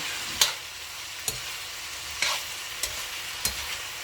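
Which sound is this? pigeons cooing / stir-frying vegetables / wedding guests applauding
stir-frying vegetables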